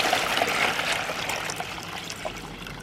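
Water splashes steadily onto potted plants in a Zone 9B garden before a frost, a continuous close-up hiss and trickle that holds level throughout with no voices.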